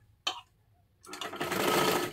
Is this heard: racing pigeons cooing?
no